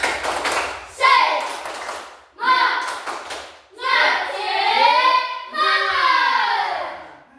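A class of children performs a spirit clap, patterned rhythmic clapping in short bursts, with kids' voices chanting loudly between and over the claps.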